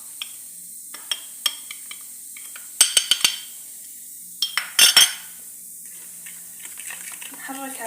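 A spoon clinks and scrapes against a pot as flour is stirred into a cauliflower soup mixture, with scattered taps early and louder clattering bursts around the middle, close by and without talk.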